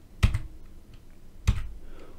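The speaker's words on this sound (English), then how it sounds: "keys on your keyboard, 1, 2, 3," Number keys on a computer keyboard pressed twice, two sharp, close clicks spaced about a second and a quarter apart over quiet room tone.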